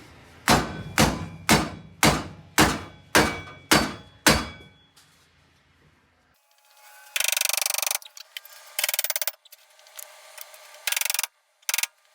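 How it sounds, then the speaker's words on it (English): Metal hammer blows on a Ford Mustang Foxbody drift knuckle during a drift angle kit install, seven evenly spaced heavy strikes followed by a pause and then scattered bursts of clattering tool noise. "Bigger hammer."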